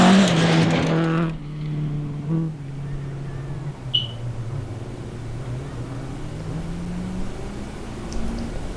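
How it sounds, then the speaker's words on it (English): A rear-wheel-drive Ford Escort G3 rally car at a forest rally stage engine note rising through gears, loud and close at first, then a sustained mid-distance engine drone that fades as it drives off through dust. "Bob Smith in the rear drive Escort G3 appearing through the dust"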